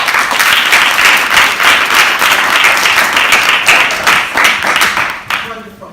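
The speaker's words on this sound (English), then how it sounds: "let's give them another round of applause" Audience at a stage play applauding, a dense, loud, steady wash of many clapping hands lasting several seconds before fading out at the end.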